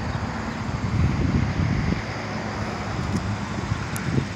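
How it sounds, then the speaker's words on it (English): Steady gusting wind rushing across the microphone ahead of a severe thunderstorm with a shelf cloud, a continuous low roar that swells slightly and then eases, with no voices. "I can feel the wind starting to come in"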